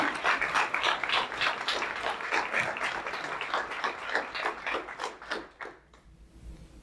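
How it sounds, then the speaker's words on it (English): Audience applause at a coding bootcamp demo day, a moderate crowd clapping steadily and fairly close, thinning out and fading near the end. "So let's give them a big round of applause."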